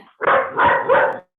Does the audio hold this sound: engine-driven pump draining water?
no